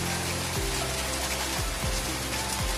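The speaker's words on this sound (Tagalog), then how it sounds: "Kahit walang tigil yung ulan." Steady rain falls continuously during an outdoor pigeon race wait, a dense even hiss with low rumbling underneath and occasional faint tones passing through.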